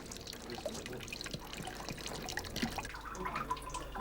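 Liquid drips and trickles steadily from pressed olive paste in a traditional animal-powered oil mill, a soft continuous wet patter with scattered small drops and no voices.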